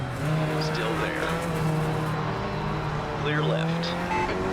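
Race cars in Assetto Corsa drone steadily, a Nissan S14 among them, at Donington, as another car runs alongside with engine tones rising and falling. Tyre noise is also present, and a voice speaks over the engines at times.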